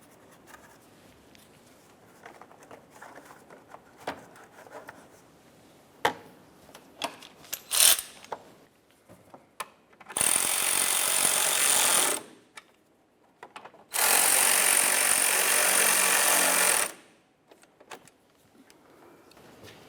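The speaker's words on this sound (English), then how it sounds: "Start in both of those mounting bolts and then snug them up." Corner piece mounting bolts on a 2009-2010 Pontiac Vibe get tightened, first with light clicks and handling noises, then two loud sustained whirring bursts of a power tool driving the bolts, each lasting a few seconds, close up.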